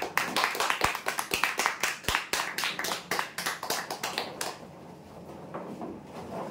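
An audience at a prize draw applauds the winners with a quick run of sharp, distinct handclaps that thin out and fade over the last couple of seconds.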